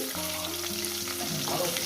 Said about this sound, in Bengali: বাদ বাকি মাছগুলো ওই দুটো লেজা আছে আর মাথা আছে একেবারে ভেজে নিচ্ছি